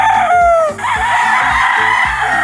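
A pure Lemon-breed gamefowl rooster on a farm on a rainy day lets out one loud, close crow that breaks off sharply, followed by lower rhythmic clucking and farmyard noise.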